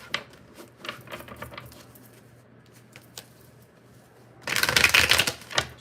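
A deck of tarot cards being shuffled between readings: a few soft riffling taps early on, a quiet pause, then a loud, dense burst of card shuffling close by near the end.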